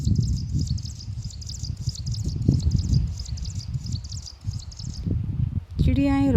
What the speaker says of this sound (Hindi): चिड़ियाएँ